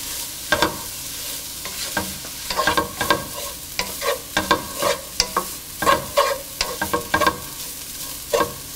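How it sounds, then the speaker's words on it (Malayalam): Grated coconut is stirred into a frying pan with a spoon, the scrapes and taps arriving in irregular bursts over a soft steady sizzle, close up and without voices. "എടുത്തു വച്ചിരിക്കുന്ന ചിരകിയ നാളികേരം ഇതിലോട്ടിട്ട് മിക്സ് ചെയ്യുക"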